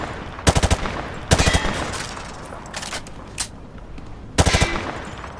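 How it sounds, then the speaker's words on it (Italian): Bursts of automatic rifle fire in Call of Duty: Modern Warfare, sprayed without aiming at targets on a range; three loud rapid volleys and a single shot separated by quiet pauses. "Prendi l'arma sul tavolo e spara ai bersagli dietro di te."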